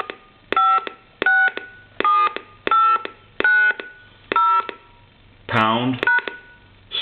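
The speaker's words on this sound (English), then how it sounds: "We'll dial all the numbers." Touch-tone keys are dialed on a Crosley wall telephone, eight evenly spaced close, loud beeps in a steady rhythm, with a short voice interrupting near the end.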